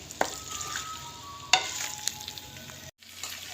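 Gravy is stirred in a kadhai (wok) over a stove, with a soft continuous sizzle and a few sharp scraping clacks of the spoon against the pan, followed by a brief moment of silence.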